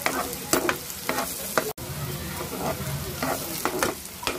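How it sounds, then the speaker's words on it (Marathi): Whole cardamom, cinnamon, cloves and peppercorns fry in hot oil among onions for a prawn pulav. A busy close sizzle runs throughout, broken by rhythmic scraping stirs and one brief dropout, with no voices. "एक मसाला वेलची, नंतर थोडीशी दालचिनी, 2-3 लवंगा आणि मिरी टाकायचं म्हणजे तेही छान फ्राय होते"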